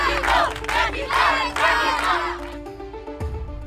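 A crowd at a top-level horse sport event cheers and shouts in loud, surging bursts that fade toward the end.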